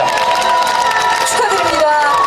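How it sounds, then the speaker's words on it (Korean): Crowd at an outdoor ginseng festival award ceremony in Icheon, loud, steady cheering and applause mixed with shouting and voices for the whole stretch. "박수 한번 크게 보내주시면 감사드리겠습니다"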